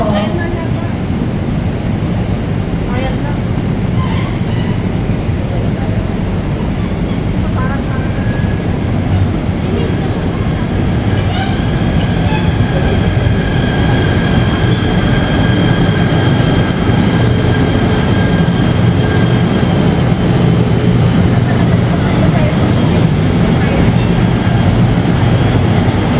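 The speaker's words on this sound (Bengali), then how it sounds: "এই হচ্ছে মালয়েশিয়ার লোকাল ট্রেন।" Malaysian local commuter train during the morning rush, a steady loud rumble of wheels and carriage noise with faint squeals, continuous throughout, with voices faintly present.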